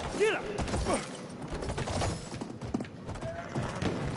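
In the Battlefield 1 game, a horse whinnies sharply near the start, then its hooves clip-clop in quick uneven beats under faint background voices and distant battle noise.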